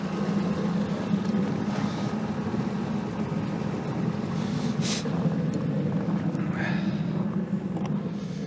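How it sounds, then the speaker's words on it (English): A diesel-powered heating machine blows hot air to thaw a frozen car in Siberia's extreme cold, its steady low engine drone and rushing airflow running continuously throughout with no pauses. "The heating machine itself is powered by diesel and generates hot air"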